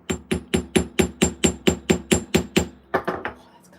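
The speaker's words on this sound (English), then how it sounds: "this is the big ol' Janus hammer, two-faced" A big two-faced Janus hammer strikes about a dozen evenly spaced, sharp loud blows in steady rhythm during late-night beading, then a few softer, uneven taps.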